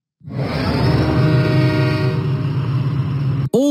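Diesel, a train engine in the Thomas and Friends kids game Lift Load & Haul, rumbles along steadily and loudly for several seconds. It cuts off abruptly, and a short bright chime follows.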